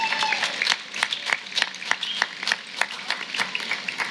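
A community event audience applauds its board members, producing a loose patter of claps from a crowd at moderate distance, with uneven bursts that rise and dip over a few seconds.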